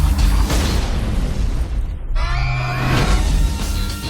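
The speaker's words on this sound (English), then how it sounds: "Light the firecracker." A firecracker goes off in a movie scene, a loud boom and burst over a dense soundtrack, followed by a crackling, ringing tail.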